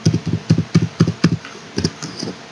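A number being typed on a computer keyboard while entering a value in Excel: a run of close, crisp key taps in an uneven rhythm, about a dozen strikes, tapering off slightly at the end.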